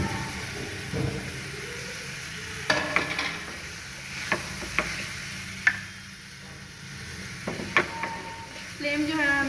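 Fish masala spices frying in a pan over medium-low flame, with a soft sizzle under scattered clicks and taps of stirring, plus a brief spoken word near the start; steady and close.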